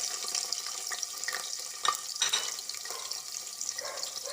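Onions tipped into hot oil with panch phoron hiss and sizzle steadily in a pan for khichdi, a dense crackle with small pops and faint stirring scrapes, close and even, with no voices.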